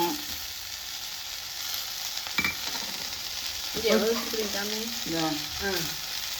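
Onions and cumin sizzle steadily in hot oil in a pan for a goat head curry, a close continuous fry hiss that runs on underneath a voice talking through the second half.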